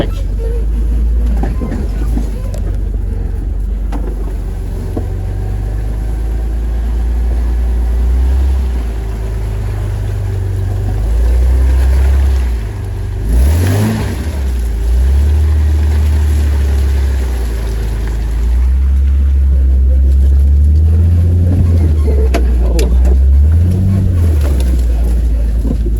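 A Ford F350 truck crawls off-road through thick mud, its engine droning loud and close with rises and dips as it turns and pushes back through the muck.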